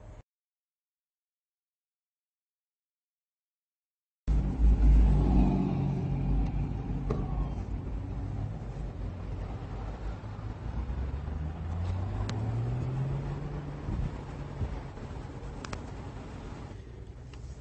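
Chrysler Crossfire driving around the block, heard from inside as a steady low engine and road rumble that begins after a few seconds of silence and rises slightly as the car accelerates.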